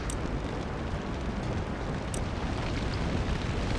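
A burning sailing ship explodes in the naval battle game Empire: Total War, a loud, dense roaring rumble that holds steady throughout, with a couple of sharp crackles near the start.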